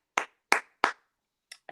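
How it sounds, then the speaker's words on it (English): A handful of hand claps at a live poetry event for the Batley Poets: three sharp, evenly spaced claps close to the microphone, a pause, then two fainter ones, with no talking. "A round of applause for that"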